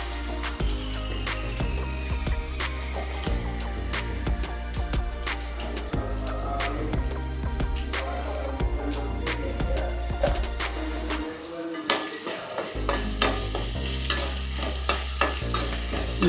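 Curry leaves crackle and sizzle in hot oil while a spoon stirs and taps against the pan again and again, close up throughout, with a brief quieter gap near the middle and no talking.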